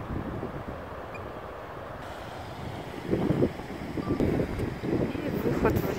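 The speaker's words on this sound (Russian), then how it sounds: "Холодно, здесь такой ветер." Cold mountain wind near a snowy peak in Greece buffets the microphone in low gusts, growing rougher and louder in the second half, with no clear speech.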